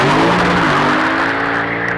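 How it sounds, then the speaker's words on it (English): A 2022 Lexus IS 500 with a 5-liter V8 launching hard and spinning its rear tires, a loud, continuous engine roar with rising revs and tire noise, close and alone. "still lights up those rear tires"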